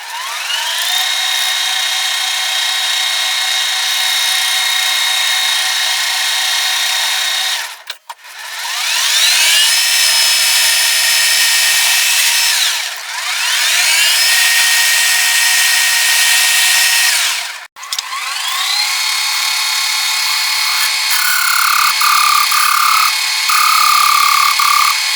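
Lathe facing and threading a 4140 pre-hardened steel shaft at 12 threads per inch, a loud continuous high-pitched machining whine in three long passes broken by two brief stops.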